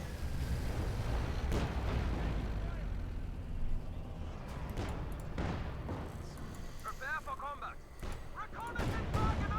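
Cannon and artillery fire in the real-time strategy game Company of Heroes 2, with heavy repeated booms and bursts of gunfire under continuous commentary from a caster.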